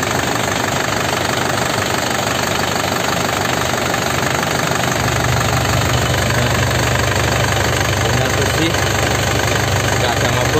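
A 2014 Isuzu Panther Grand Touring engine idles loudly and steadily up close, warmed up, a continuous rumbling drone with a slight rise in low hum partway through.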